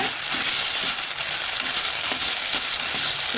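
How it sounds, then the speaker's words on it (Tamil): Sliced onions sauté with salt in a pan for a chutney, crackling with a steady close sizzle and soft stirring scrapes throughout. "இப்போது வெங்காயம் நல்லா வதங்கி வர அளவுக்கு வதக்கி விட்டுக்கலாங்க."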